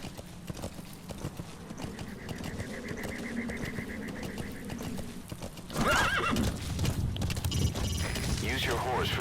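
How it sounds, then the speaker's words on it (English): Horse hooves clip-clop steadily while a horse neighs and whinnies in Metal Gear Solid V: The Phantom Pain, with a louder burst of hoofbeats and whinnying near the end. "Use your horse for traveling long distances."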